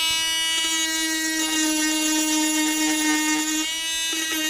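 Dremel Stylo+ pen-style rotary tool sanding wood: a steady high motor whine with a strong tonal hum, close and continuous, briefly dipping in pitch as the sanding tip presses into the wood.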